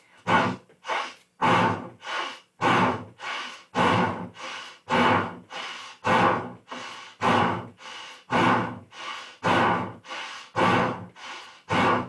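Yoga class breathing: deep, forceful breaths in and out repeat in a steady rhythm, about a dozen strong gusts of air, close and loud with brief pauses between them and no talking.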